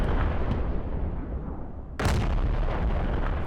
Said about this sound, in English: is that indirect fire support?